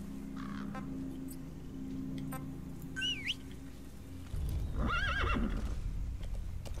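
Horse in the Metal Gear Solid 5: The Phantom Pain video game, a couple of shrill whinnies and a loud neigh over steady hoof clip-clop and rumbling ambient game sound.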